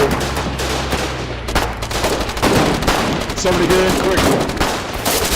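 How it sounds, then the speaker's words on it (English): Gunfire in a video game: sharp bursts of shots crack out in quick, uneven clusters, loud and close, while a player talks over the action. "Shoot the gun one time."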